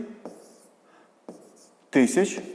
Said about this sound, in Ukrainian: Ну, е, запишемо це так, як 27